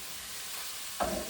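Pork dropped into a hot pan for a celery and potato dish sets off a sudden sizzle about a second in, which stays steady and close after a short stretch of quiet.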